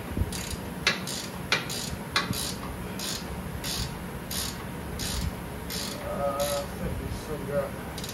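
A hand ratchet clicks in short bursts while it turns the ball joint nut on a Chevy Malibu control arm. The close metallic clicks come in uneven groups under quiet talk.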